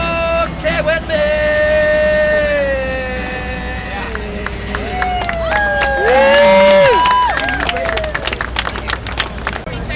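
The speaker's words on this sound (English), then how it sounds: "And the entire platform just erupted in applause." Crowd on a New York subway platform cheering and clapping for a street musician, a loud swell of whoops and applause mixed with sustained whistles and voices, with a ringing tone rising and falling midway.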